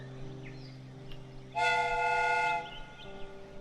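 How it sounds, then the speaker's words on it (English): A steam whistle on a replica train in a Sherlock Holmes game blows once, loud and steady for about a second, over a low hum of background music. "The steam whistle is ready to be used."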